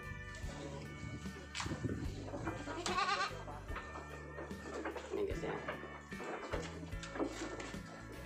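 Etawah crossbreed goats on a breeding farm bleat several times at close range, amid pen noise and someone talking over them.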